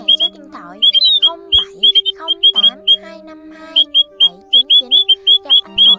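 A recorded lure call of the white-headed Áo Già bird, played for net trapping, repeats sharp whistled squawks in rapid bursts. It is loud and close, over a steady low electronic hum.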